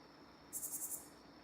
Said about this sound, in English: Ooh, that is a very loud cicada or something.